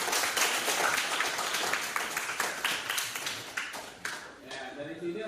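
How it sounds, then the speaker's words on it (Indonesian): High school students in a classroom clap together for a classmate, a brisk burst of close, crisp hand claps that thins out and tapers off near the end. "tepuk tangan untuk kamu"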